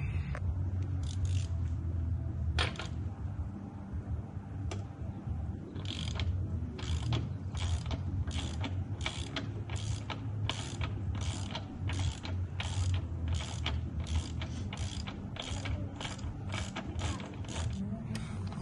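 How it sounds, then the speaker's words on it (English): Ratchet loosening the axle nut on a Suzuki GSX-R600 motorcycle with a 36 mm socket: a long run of steady, rhythmic clicking strokes close by, over low background hum. "once you get your axle nut nice and loose right there"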